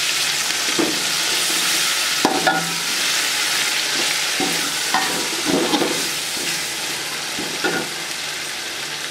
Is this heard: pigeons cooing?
no